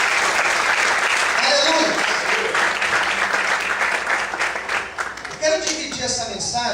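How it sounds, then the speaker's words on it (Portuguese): Church congregation applauding during an evening Easter service, loud sustained clapping from many hands that thins and fades toward the end as voices begin to come through. "Você pode aplaudir no nome de Jesus nessa noite."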